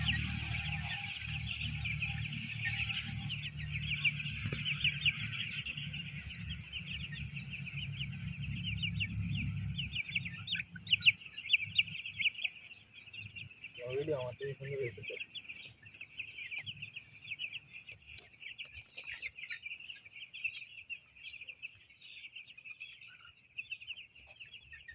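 Young white broiler chickens, about sixteen days old, cluck and chirp in a steady flock chorus at close range as they head outdoors through a just-opened exit in the morning, with a low rumble early on that fades after ten seconds.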